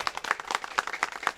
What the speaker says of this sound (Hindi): जोरदार ताली से स्वागत और अभिनंदन।